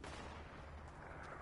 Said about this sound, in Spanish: Escucho disparos.